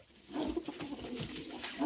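Soft, low pigeon coos repeat a few times at close range, with faint background noise and no talking.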